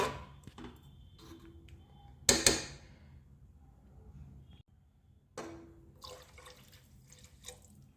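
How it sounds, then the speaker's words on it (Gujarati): Two short bursts of water pour into a pot of cooking barnyard millet, the first loud and splashy, the second softer, separated by quiet with faint kitchen clatter. "હવે આપણે આમાં બે પ્યાલા પાણી રીતશું"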